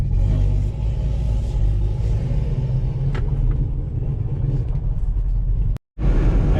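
Restomod 1969 Camaro pulling away, a deep, loud rumbling V8 engine note that builds steadily and then cuts out briefly just before the end.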